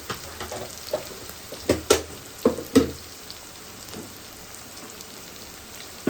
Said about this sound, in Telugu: ఇప్పుడు ఉల్లిగడ్డ పచ్చిమిర్చి జీడిపప్పు అయితే వేసేసింది అలానే కొంచెం కరివేపాకు కూడా వేసి కలుపుతుంది